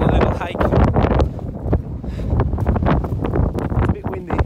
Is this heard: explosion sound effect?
no